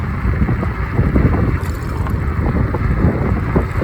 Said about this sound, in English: Wasn't for the wind, this would be a perfect riding day.